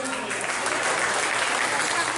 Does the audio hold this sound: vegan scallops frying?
no